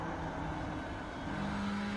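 GT race car engine in the iRacing sim at Suzuka during a world championship round, a steady droning whine with faint background race noise, continuous and fairly quiet.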